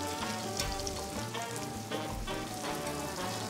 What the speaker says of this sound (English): We're gonna fry for a little bit until the ingredients they're nice and, and fried.